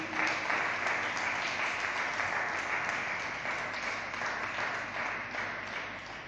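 A church congregation applauding together, sustained dense clapping that fades gradually toward the end.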